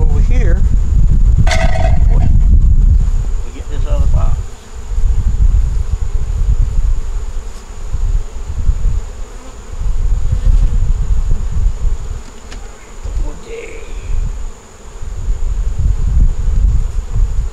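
Honeybees buzz close by at a hive in a steady drone, with wind rumble and rustling, and a person speaks intermittently over it.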